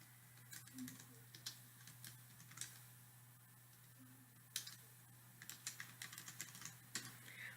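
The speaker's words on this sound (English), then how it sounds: "we click inside of our table, we can begin typing" Someone types on a computer keyboard while entering information into a table in Word 2016, producing quiet, irregular clicks in bursts of several taps, set over a low steady hum.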